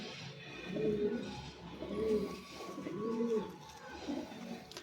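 Pakistani, Madrasi and Giribaz pigeons coo in three evenly spaced, rolling calls about a second apart, fairly soft against a faint background hum.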